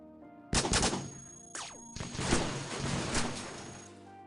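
Flak gun fire in the video game Cogmind: a sudden loud blast followed by a second shot and a rolling series of crackling explosions that slowly fade.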